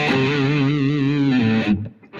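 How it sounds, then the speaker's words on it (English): A sustained, heavily processed musical tone drenched in echo and distortion wavers loudly for about two seconds, then cuts off abruptly. "I need echo and distortion."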